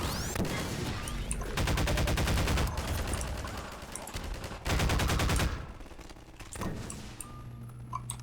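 Rapid automatic gunfire in the video game Half-Life 2, loud and close, coming in several sustained bursts with short gaps between them and no talk over the shooting.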